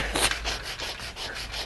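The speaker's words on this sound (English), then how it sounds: "take my sanding block and just sand off that top color of color." Steady back-and-forth rasping of a sanding block scrubbing ink off an aluminum surface, close and continuous in rhythmic strokes with no talk.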